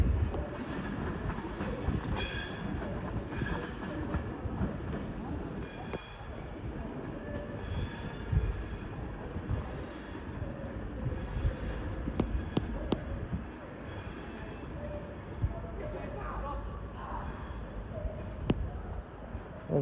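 A train pulls out of Crewe station bound for Manchester Piccadilly with a continuous rumble of wheels and track, occasional clicks and faint squeals, steady and fairly close.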